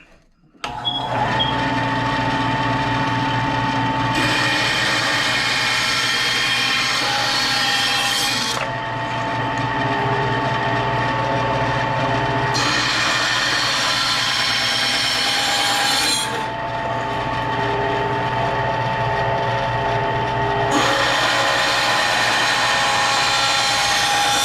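A Skil 9-inch bandsaw cuts through wood with a steady, loud motor hum and gritty blade rasp, in four long cutting passes separated by brief pauses, with no talk.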